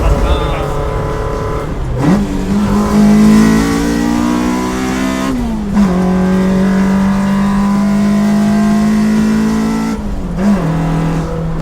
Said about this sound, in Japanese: エンジンの吸気音の方がうるせえこれ